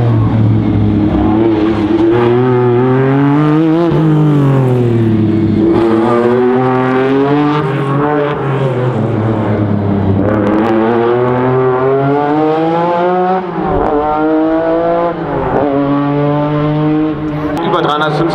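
A 1970s rally car with a rear-wheel-drive engine of over 350 hp races at the ADAC Wikinger Rally, its loud, close engine roaring through repeated rising and falling revs and gear changes.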